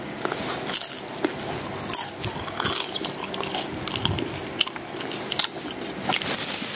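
Someone bites into a crispy spicy empanada at a night market, giving a run of loud, close crunches and chewing sounds that carry on throughout.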